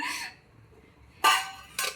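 Two bright metallic clinks of a metal spice box lid being pried and lifted open, close by, with a quiet gap between them.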